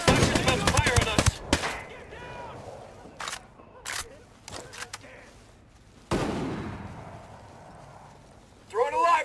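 Gunfire in the Ghost Recon Breakpoint video game, with sharp bursts of shots near the start and again around the middle, broken by shouted voices and quieter gaps.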